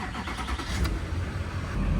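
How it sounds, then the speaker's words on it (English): A 1999–2007 GM truck engine cranks and catches, settling into a steady close idle for a couple of seconds with no talking. "hop in the truck, fire it up, and then let it sit for about 2 minutes"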